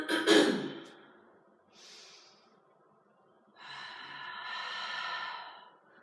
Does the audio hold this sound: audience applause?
no